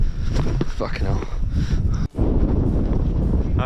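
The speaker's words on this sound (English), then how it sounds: "It's a bit windy up here." Gusty wind buffets the microphone at the top of the Cliffs of Moher in Ireland, loud rumbling blasts with a brief lull, while someone talks over it.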